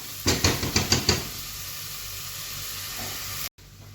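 Onions sautéing in a pan for a white okra tagine: a quick run of clattering stirs and bursts up front, then a steady low sizzle that carries on alone.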